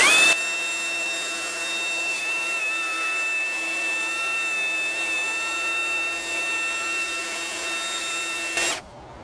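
A Makita 40V cordless belt sander runs without dust collection, giving a loud, steady whine with a constant high mechanical tone for about eight seconds before stopping abruptly.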